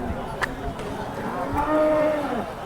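A Holstein Friesian cow at a cattle market in Sangola, Maharashtra lets out a long, drawn-out moo close by, with people talking in the background.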